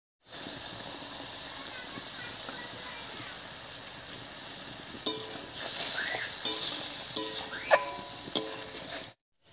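Spice paste with a little water sautéing in a pan, a steady close sizzle and hiss with stirring scrapes and a few sharp utensil clicks toward the end.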